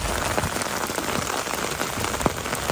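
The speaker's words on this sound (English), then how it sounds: "It's pouring down rain right now." Heavy rain pouring down outdoors beside flooding culverts, a loud dense continuous hiss of drops pattering on surfaces and an umbrella, close and steady with no talk.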